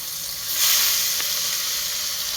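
Fish frying in a pan gives a close, steady sizzling hiss that swells briefly near the start, then holds on evenly with no talk.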